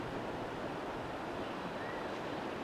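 Water flowing in a swirling current at an outdoor pond or stream, a steady rushing wash that stays even and continuous throughout, with some wind noise on the microphone and no talk.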